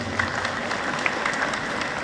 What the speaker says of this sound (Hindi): तो एक बार एडहॉक कमेटी के लिए जोरदार तालियां बनती हैं